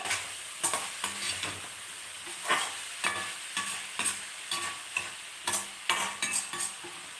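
Ivy gourd masala fries in a pan, with a spatula stirring and scraping in regular strokes over a soft sizzle, fairly quiet and close, with no talking.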